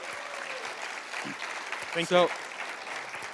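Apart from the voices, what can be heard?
audience applause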